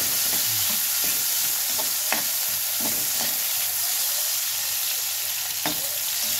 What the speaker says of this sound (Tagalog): Ilagay na natin yung kamatis.